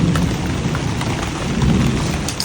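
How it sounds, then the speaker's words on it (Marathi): Steady, dense rain falls over a vegetable garden growing snake gourd and sponge gourd. The hiss is loud and close and continues without a break, with no voices. "पाऊस येतोय मस्त"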